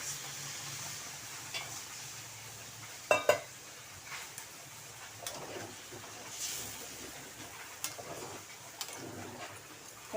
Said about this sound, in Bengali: এখন আমি জল দিয়ে দিচ্ছি, গরম জল